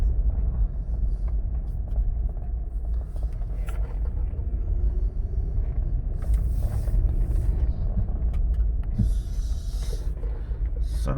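A Lexus GX470 on the move, heard from inside as a continuous low engine and road rumble with faint mechanical clicks and rattles, and no talking.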